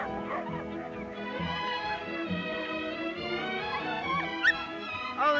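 Small dogs in a 1930s setting whimpering and yipping almost continuously, high whiny cries running through the whole stretch with a couple of sharper yips near the end, fairly close and alone.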